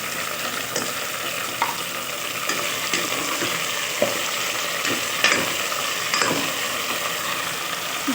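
Meat frying in a pan with salt sprinkled on, a steady close sizzle with occasional scrapes and clinks of stirring at irregular intervals.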